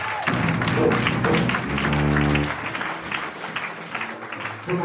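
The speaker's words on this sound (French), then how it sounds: "Acclame Jésus maintenant" A church congregation applauding during a Sunday worship service, a dense, continuous wash of clapping with a sustained tone and voices mixed in, loud and full throughout.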